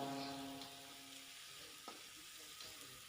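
Tempeh frying with bitter melon, tomato and palm sugar sizzles softly and steadily in a pan, close but faint, with a light clink of stirring partway through.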